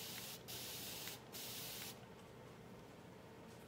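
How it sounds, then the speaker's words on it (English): A small hobby paint sprayer bought from a craft store hisses in a continuous broadband spray, with two brief louder bursts early on before the steady hiss settles, heard alone and fairly close. "I tried out my sprayer that my husband grabbed from me from Hobby Lobby when I was in class"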